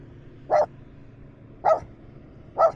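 A puppy gives three short, evenly spaced barks about a second apart, mid-loud and nearby, with no other sounds around them.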